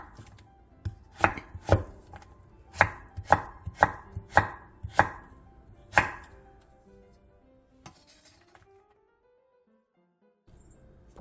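A knife chops firmly through a third of a radish sliced into thin julienne strips, about eight sharp, evenly spaced thuds on a cutting board, loud and close, then a few quieter knocks and near silence.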